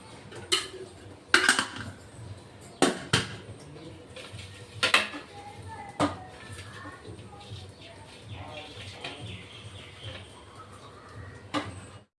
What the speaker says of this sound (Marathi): ताटाला तेल लावून घेतोय आपण